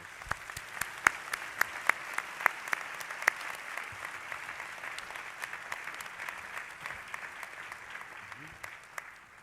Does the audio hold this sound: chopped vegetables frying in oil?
no